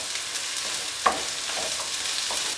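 Steady sizzling of four green chillies sautéing with onions in a hot pan for a biryani, with a brief stirring clatter partway through, close and continuous, no talk.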